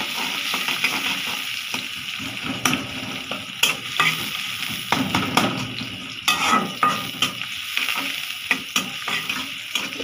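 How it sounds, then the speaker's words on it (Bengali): Oil heating in a pan for tempering lentil dal gives a steady, loud, close sizzle with irregular crackles and pops throughout, and no talking. "ডালটাকে বাগার দিব।"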